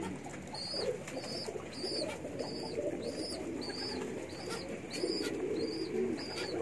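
Jet Metic Gambir pigeons, a female and her young, coo softly in a low, soft murmur, while bright, high chirps repeat at a steady rhythm over a faint outdoor hum.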